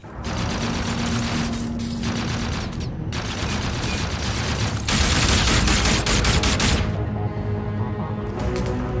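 Sustained automatic gunfire in a Call of Duty: Infinite Warfare campaign battle, loud and dense with rapid overlapping bursts that run almost without pause throughout.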